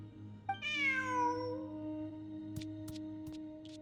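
A cat in the video game Genshin Impact gives one drawn-out, clear meow that rises and slowly falls, followed by a few faint ticks over a low steady hum.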